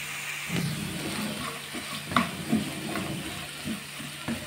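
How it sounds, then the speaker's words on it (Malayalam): Banana stem stir-fry being stirred in a pan, a soft steady sizzle with scattered light scraping taps of the spoon, close and without talk. "നന്നായിട്ട് ഇളക്കി കൊടുക്കാം"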